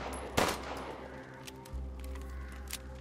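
Several quick gunshots and bursts of weapon fire ring out in Resident Evil around the character Duke, with a sharp crack early on and more scattered shots over a low steady hum, fairly quiet overall.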